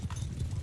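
Horses galloping in the Mount and Blade 2 video game during a cavalry battle against Khuzait riders, heavy low hoofbeats rolling steadily and close, with no talk over them.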